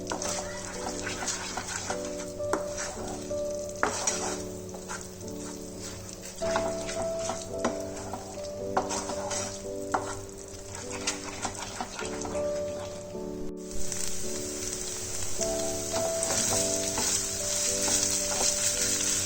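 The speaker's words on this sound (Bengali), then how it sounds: "ভেটকি মাছের কোরমার মশলাটা রেডি হয়ে গেছে, ভালোভাবে ফ্রাই হয়ে গেছে আর তেলটাও সাইড থেকে ছেড়ে যাচ্ছে" Bhetki fish korma masala frying in hot oil, a steady close sizzle with intermittent stirring and scraping and a faint tonal background running underneath throughout.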